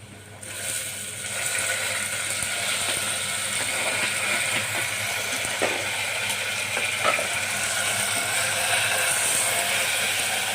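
Onion and tomato frying in a pan for moong dal khichdi, giving a steady close sizzle and crackle with a few clinks of a utensil and no talk.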